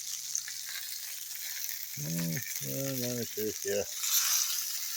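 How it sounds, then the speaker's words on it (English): Skirt steak sizzles steadily on a Blackstone griddle, a continuous bright frying hiss that runs through the whole stretch while someone talks briefly over it. "this is the first skirt steak I've ever cooked"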